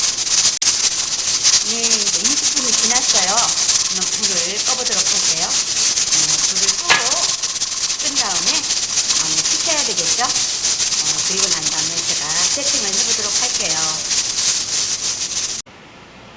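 Pork trotters for jokbal boiling in a covered pot on medium heat give a steady, loud hiss of bubbling and steam that runs for about fifteen seconds, with a wavering melodic voice or music layered on top, then drops away at the end.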